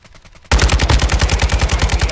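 Rapid automatic fire from a Lachmann Sub submachine gun in Warzone 2, a loud close burst of evenly spaced shots that starts abruptly after a quiet moment and continues steadily.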